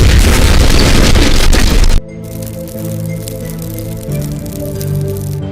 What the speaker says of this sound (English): Kaboom? Yes, Rico. Kaboom.